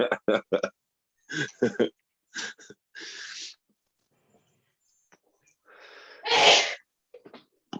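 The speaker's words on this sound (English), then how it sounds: "She sneezes with gusto." One woman sneezes loudly and forcefully, a single burst partway through, with people talking before and after it.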